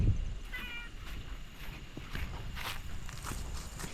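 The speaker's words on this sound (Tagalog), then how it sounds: "Sumama sa amin yung pusa pa uwi. Yung pusa sa resort." A resort cat meows repeatedly while its footsteps patter along outdoors, the mews close and fairly loud over rustling background noise.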